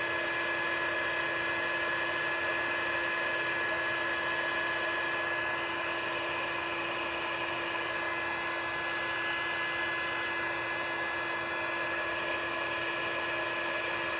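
A heat gun blasts a steady, loud whirring hiss with a constant tone while embossing a metallic foil greetings card, continuous and unbroken with no talking.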